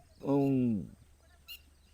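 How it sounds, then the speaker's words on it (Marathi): A young hen gives a single drawn-out, nasal squawk close by, falling slightly in pitch, followed by quiet. "तलंग ही करकार करकार करते"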